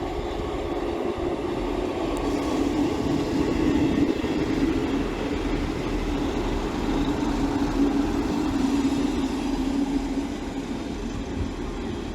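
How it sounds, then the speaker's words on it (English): A train rumbles steadily and loudly into a station, a continuous low roar with faint rattling that persists throughout, no voices. "Train now arriving into platform 3"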